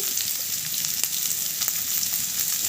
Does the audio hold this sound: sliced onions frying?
yes